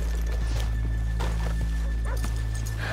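Horses clip-clop and snort close by in the video game Red Dead Redemption 2, and a dog barks briefly over a constant low hum.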